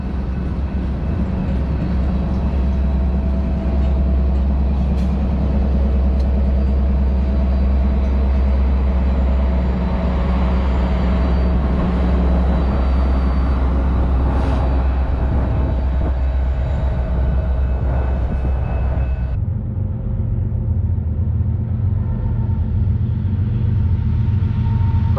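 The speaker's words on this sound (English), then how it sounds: "I'll jump out here, let you hear the rear locomotives" Rear locomotives of a long freight train pass close by in New Mexico or Arizona, a loud steady diesel rumble with rolling wheel noise that drops off sharply near the end as the train moves away.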